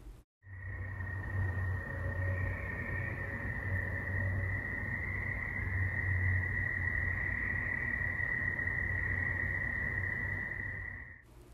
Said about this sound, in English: Now listen to a different video of just the field crickets.